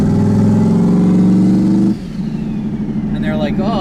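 Turbocharged LSX-swapped Chevrolet Colorado pickup with a Pro Mod exhaust exiting through the hood, a deep throbbing engine drone that drops sharply as the revs fall, then a rougher idle rumble, with people talking over it.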